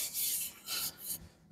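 A hand wipes down freshly sanded wood, making three soft brushing strokes close up, each a short hiss of rubbing, with no voices.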